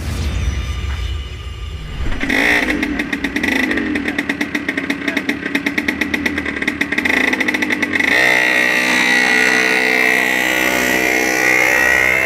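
A motorcycle engine warming up, starting with a low idle, then a loud close rapid clattering putter that steadies into an even, droning idle.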